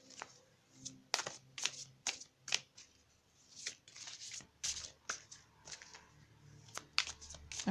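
Oracle cards shuffled and drawn for a reading, a series of quick close crisp riffles and slaps at an irregular rhythm, fairly quiet with no talking.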